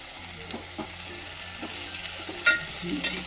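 Ivy gourd stir-fry being stirred in a hot pan, a soft continuous sizzle broken by a few scraping strokes of a spatula against the pan, close by with no talking.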